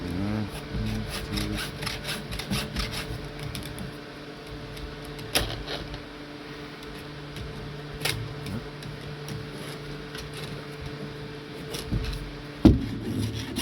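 Steady rasping strokes of a Stihl 2 in 1 file across a chainsaw chain's cutters, close and moderately loud, with a few sharp clicks and knocks scattered through the continuous filing.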